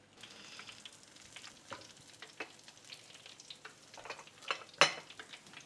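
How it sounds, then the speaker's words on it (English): A breaded pork cutlet deep fries in oil at medium-high heat, crackling quietly with a fine continuous bubbling sizzle and scattered small pops, one sharper pop standing out near the end, with no talking. "Once coated, deep fry for 5 to 6 minutes, medium high heat."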